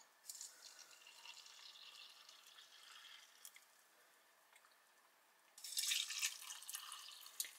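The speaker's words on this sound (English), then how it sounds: "I've got some hot water in this flask, so we'll just fill them all up." Hot water pours from a flask into ration pouches for a Lancashire hotpot meal, a soft trickling and gurgling fill that dips quiet midway, then returns as a louder, splashier pour near the end.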